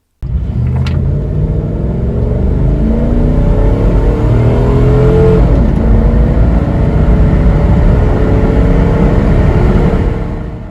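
A 2000–2003 Dodge Durango with the 4.7-liter PowerTech V8 and automatic gearbox accelerates hard, its loud close engine note rising through the gears with a shift partway through, steady and unbroken with no talking.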